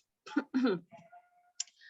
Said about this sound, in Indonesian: saya agak sakit tenggorokan jadi kadang-kadang agak batuk dikit